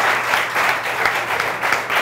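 Audience applause fills a forum on living in precarious neighbourhoods, a dense, steady clapping from a crowd that stays even throughout the short stretch.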